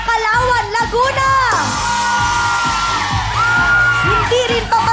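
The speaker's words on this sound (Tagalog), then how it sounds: "Sumigaw na ang mga taga Kalawan, Laguna." A crowd of people from Kalawan, Laguna shouts, whoops and cheers together in a loud, sustained burst that rises, holds, then falls back briefly before swelling again.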